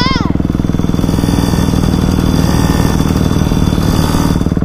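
A child rides a small dirt bike motorcycle, its engine running steadily and loudly throughout with a dense, rapid putter, while a voice chimes briefly near the start.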